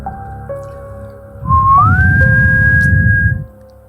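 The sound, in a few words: person imitating a peculiar whistle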